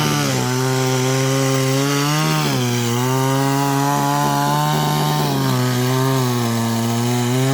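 Loud, close Stihl gasoline chainsaw engine droning steadily as it cuts through eucalyptus wood, its pitch dipping and rising as the blade bites and eases off.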